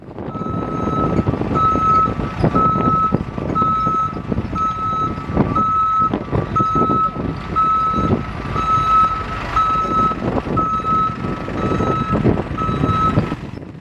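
A truck reverses on a city street beside a moving protest, its backup alarm beeping in a steady regular rhythm throughout over a continuous engine rumble, loud and close.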